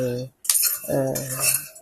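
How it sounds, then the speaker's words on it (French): Raw peanuts rattle and clatter as they are poured into a metal cooking pot for roasting, a loud ringing burst with a brief pause between pours, no talking. "faire chauffer la marmite ou dans la casserole dans laquelle vous allez griller vos arachides et vous versez les arachides"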